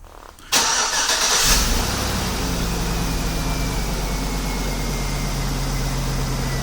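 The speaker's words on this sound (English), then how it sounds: "We're going to activate remote start" A Chevrolet or GMC vehicle engine starts by remote start: a short cranking burst, then the engine catches and settles into a steady close idle with a faint hum, no voices.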